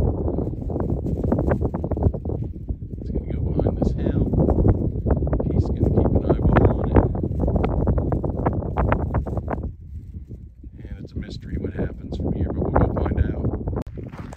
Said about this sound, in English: That wind is just brutal up there today.